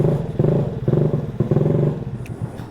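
A Maddog 50cc GY6 139QMB scooter engine with a PWK carburetor cold-starting on choke gives close, loud, uneven sputtering bursts that pulse and falter for a few seconds.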